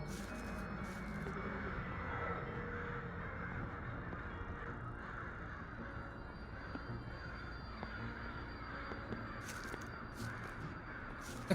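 Crows caw several times in the horror game Sucker For Love: Date To Die For, scattered harsh calls over a low, steady ambient drone, quiet and somewhat distant.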